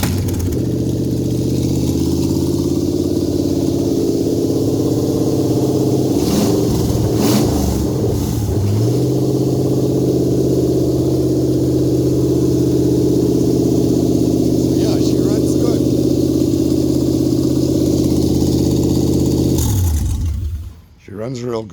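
A Toyota 2UZ-FE V8 from a 2001 setup with a standalone system runs steadily just after starting, a loud close rumbling idle with a couple of brief blips, until it cuts out near the end.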